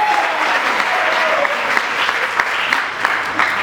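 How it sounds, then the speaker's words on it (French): Guests at a civil wedding ceremony break into steady, loud applause, a dense wash of many hands clapping close by with a faint voice murmuring underneath. "Applaudissez pour Monsieur Tsongo"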